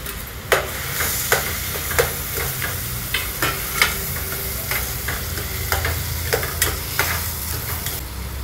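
Chopped onion fries in a hot pan for paneer bhurji, giving a steady close sizzle broken by a dozen or so sharp spoon scrapes and taps against the pan at a fairly regular rhythm, with no talking.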